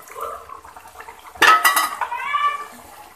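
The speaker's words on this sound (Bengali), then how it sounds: "তো আমি 5 মিনিট পর ফিরে এসে এর মধ্যে আমি মাছগুলো দিয়ে দিচ্ছি।" Rohu fish pieces go into a simmering curry with bottle gourd, giving a sudden clatter of pot and utensil followed by a brief splash and bubbling, close and fairly loud.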